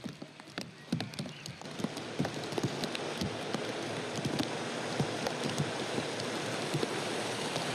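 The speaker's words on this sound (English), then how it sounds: "Oh God, it's raining." Steady rain patters down on a film set, a dense even hiss of drops with scattered sharper ticks from nearby surfaces, growing slightly fuller as it goes, with no voices.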